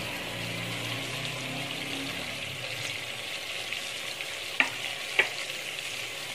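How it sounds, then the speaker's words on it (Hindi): Chopped onions, two medium ones, cook in hot oil in a pan with a steady close sizzle and light stirring scrapes, marked by two sharp utensil clicks near the end; no one speaks. "तो अब हम इसमें प्याज शामिल कर देंगे और प्याज को भी थोड़ा पका लेंगे, अच्छी तरह भून लेंगे।"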